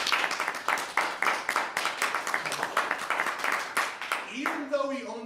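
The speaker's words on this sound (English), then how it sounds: "let's give a big round of applause to Andrew" A live-stream audience of a Zig web development talk breaks into a burst of clapping and applause, dense and sustained for several seconds, with a voice speaking over the tail end.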